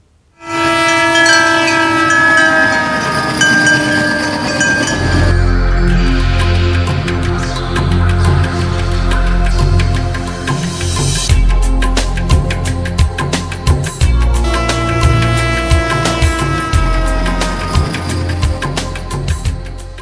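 An Indian Railways train sounds a long, loud horn, then rumbles past close by with steady heavy clattering of wheels over rail joints.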